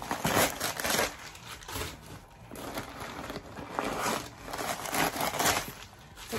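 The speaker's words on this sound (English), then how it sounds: "sorry for the paper sound." Paper crinkling and rustling close by, in uneven bursts of crackly handling that rise and fall throughout.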